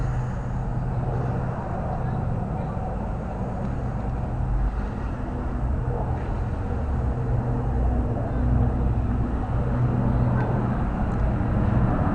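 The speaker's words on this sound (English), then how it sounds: "The car rides really quietly." Steady low road rumble and engine drone inside a 1968 Volvo Amazon 220 on the move, even and continuous, with someone talking over it.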